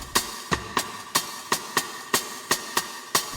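A percussive hit in a mix treated with badly set reverb, about ten evenly spaced sharp transients, each followed by a smeared wash that never fully decays before the next one. Loud and close, with no voices.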